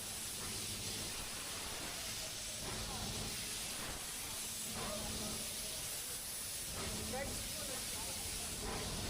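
The Ooty toy train on the Mettupalayam–Ooty mountain line passes close by, a loud, steady steam hiss with a rumbling undertone, while faint voices murmur in the background.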